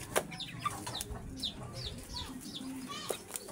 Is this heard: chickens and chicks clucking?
yes